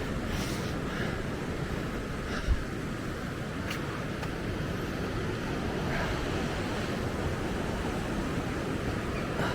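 Sea surf on the Causeway Coast at Ballintoy, Northern Ireland, makes a constant broad roar that does not let up, with wind buffeting the microphone and one brief thump, and no voices are heard.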